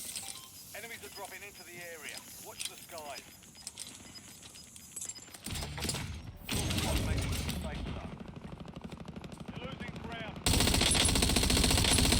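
Rapid automatic Peacekeeper gunfire in the Warzone shooter game, Black Ops 7 season 1, rattles in dense bursts that grow louder and more continuous toward the end, while players talk over it.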